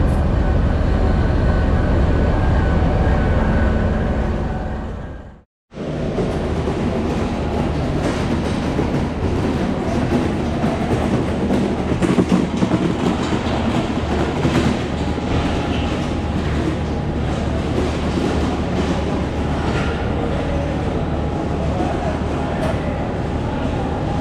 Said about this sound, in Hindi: ठीक अपने वक्त पे डिपार्चर शुरू हो गया 102 डाउन सुबह रफ्तार एक्सप्रेस का